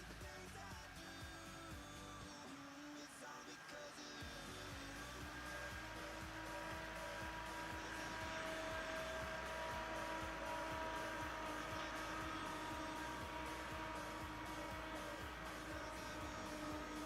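Track drying equipment at a dirt racetrack runs as a steady, loud, continuous roar with a droning whine, a brief dip near the start and then constant from a distance.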